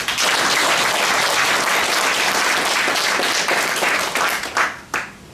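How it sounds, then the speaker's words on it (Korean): Loud, dense applause from a large crowd fills the room, sustained and steady before tapering off into a few scattered claps at the end. "큰 박수로 환영하시기 바랍니다"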